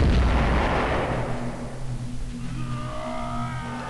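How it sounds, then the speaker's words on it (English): Explosion of a gunpowder-soaked rope in the video game One Night, a loud low boom that fades over about two seconds into a quieter tonal tail. "Well, for an explosion,"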